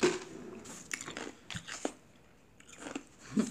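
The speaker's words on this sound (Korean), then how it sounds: "얼음 씹어 먹고 있어서" Ice being chewed and crunched close to the mouth, with several irregular crisp crunches and bites spread across a few seconds, separated by quieter moments.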